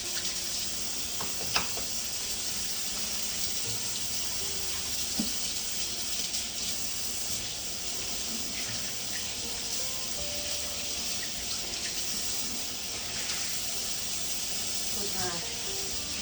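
Tap water runs into a kitchen sink as hands are washed, a steady close hiss of flowing water with a few faint clinks.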